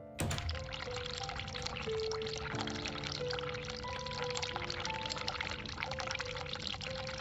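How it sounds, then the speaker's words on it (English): Cold water pours steadily from a sink tap in The Cat Lady video game, a continuous hissing splash lasting several seconds after a sharp start, with faint tonal game music underneath. "Turn cold water on."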